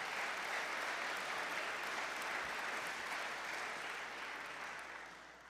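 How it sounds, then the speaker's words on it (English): Dense, sustained applause from the audience at a college hall of fame induction ceremony, filling the room evenly and fading slightly near the end. "So, round of applause."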